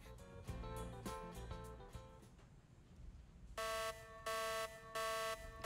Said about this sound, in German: Alarm. Emergency alert.